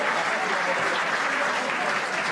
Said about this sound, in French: vous pouvez les applaudir une nouvelle fois pour cette deuxième demi-finale qualificative